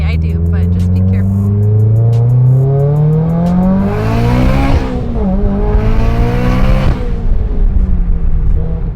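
A 500 WHP Mitsubishi Evo makes a full-throttle pull, its engine note climbing steeply through two gear changes with loud, close roaring and brief dips at each shift, no talking.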